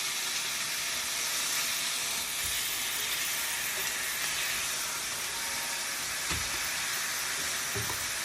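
Fish pieces and onions fry in a pan with a dense, even hiss of sizzling that holds steady throughout, broken by a couple of faint low thumps.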